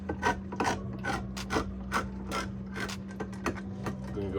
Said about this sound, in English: Let's go ahead and open up the can of tomatoes.